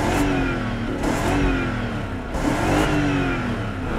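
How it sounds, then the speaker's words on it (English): An old BMW engine, run without oil and likely with a hole in the exhaust, revs loudly twice in succession, each burst climbing and falling back, close and alone with no talk. "Seems like a good engine. Let's give it some revs."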